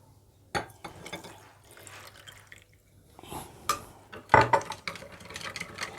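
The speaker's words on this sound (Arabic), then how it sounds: "قلبه كويس لحد اما ايه السكر يدوب خالص" A spoon stirs powdered sugar into juice until it dissolves, making scattered clinks against the container and liquid swishes at a moderate, close level with quiet pauses between.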